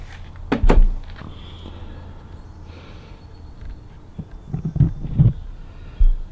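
Rear door of a Ram ProMaster 3500 extended van opening, with a couple of loud mechanical clunks and latch knocks near the start and more knocks and thuds later, close to the microphone and without speech.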